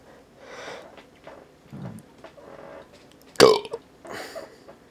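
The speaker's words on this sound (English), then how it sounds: "swallow and make the burping." A fake burp made by swallowing air, one loud, abrupt croaking belch rising out of quiet breathing and small mouth noises, followed by a couple of softer after-sounds.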